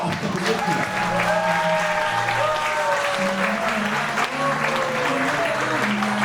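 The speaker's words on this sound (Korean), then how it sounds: "오늘 또 다른 주인공인 우리 엄마 아빠한테도 큰 박수 하러!" A crowd claps steadily in sustained applause at a first-birthday party in a buffet hall, with a voice and music-like tones underneath.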